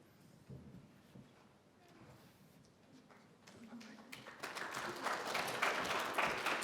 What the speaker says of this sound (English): Oh, no need for applause,